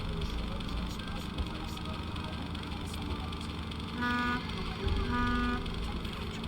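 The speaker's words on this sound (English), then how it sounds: "What's honking?" In a Nancy Drew video game, two short car horn toots sound in quick succession over a dense wash of city traffic, and voices are partly present.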